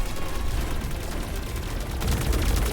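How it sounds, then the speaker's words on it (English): Dense, continuous gunfire from the Wuthering Waves video game, a steady loud barrage of rapid shots and blasts with no pauses, heard alone without talking. "Come on, keep shooting"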